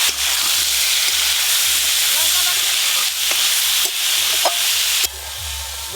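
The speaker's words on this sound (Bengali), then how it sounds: "বটবটি আলু হালকা করে ভেজে নিয়েছি" Boiled potatoes fry in mustard oil in a wok, giving a steady bright sizzling hiss broken by repeated scraping stirs, fairly close and with no clear talk.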